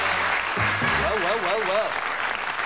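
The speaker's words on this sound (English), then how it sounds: "Give them a nice round of applause." Studio audience on a TV game show applauds in a steady wash of clapping while a voice speaks over it, drawing out words in a sing-song tone.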